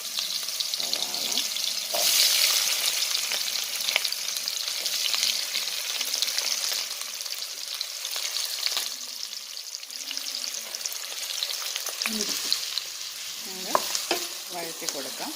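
Onions sautéing in leftover oil from frying chicken for chilli chicken, a steady, close sizzle under repeated scraping and clattering of a spoon against the pan, with occasional louder knocks.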